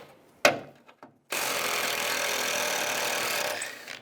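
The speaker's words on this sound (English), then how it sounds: "I'm going to take these 2 bolts out." A power tool on a 10mm socket whirs steadily for about three seconds, close and fairly loud, as bolts come out of a 2002-2009 Chevy Trailblazer during hood release cable work, after a few brief knocks and handling clicks.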